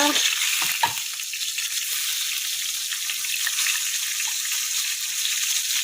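Spices sizzle and fry steadily in a hot pan for a meat curry with soaked chana dal, a continuous close hiss with a couple of stir clatters near the start.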